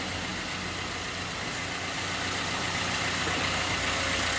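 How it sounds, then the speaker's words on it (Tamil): Maruti Suzuki Swift running with its AC compressor clutch engaged, giving a steady, even engine-bay hum and whir heard close up with no talking. "கம்ப்ரஸர் கிளச் என்கேஜ் ஆகி ஓடிட்டுருக்கு"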